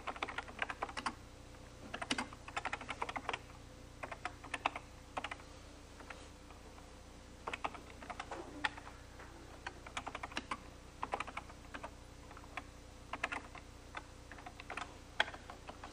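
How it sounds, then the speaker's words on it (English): Commands are typed on a computer keyboard in quick, irregular bursts of soft key clicks with short pauses, faint and close, with no voices. "so some of these commands that I'm typing"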